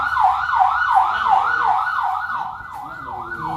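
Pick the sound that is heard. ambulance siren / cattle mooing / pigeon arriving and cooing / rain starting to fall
ambulance siren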